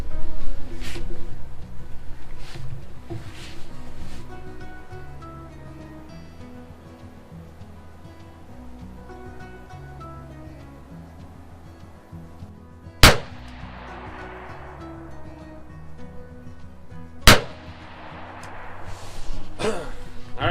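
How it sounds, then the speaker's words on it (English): Two sharp, loud rifle shots several seconds apart at a range, fired with a Pulsar Thermion Pro 2 XQ50 LRF thermal scope mounted, each a sudden crack followed by a decaying rumble, over a quiet background with soft music. "Alright guys, 2 shots downrange."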